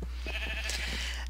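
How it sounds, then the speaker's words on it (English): A sheep from the video game Minecraft gives one short, wavering bleat over a steady low electrical hum, fairly close and clear. "We have tree sheep, the amazingly rare, hardly ever found in Minecraft, tree sheep."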